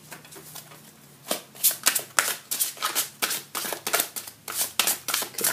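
Tarot cards are shuffled by hand in a quick series of crisp riffling bursts, close and fairly loud, following a brief quiet start, with no talk.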